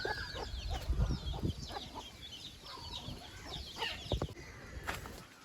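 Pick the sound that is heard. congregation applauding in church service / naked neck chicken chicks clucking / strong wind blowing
naked neck chicken chicks clucking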